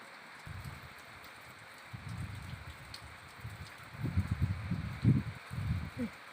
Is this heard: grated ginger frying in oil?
no